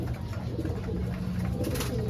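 Pet doves or pigeons coo softly nearby, a few low, rounded calls over a quiet, hissy background.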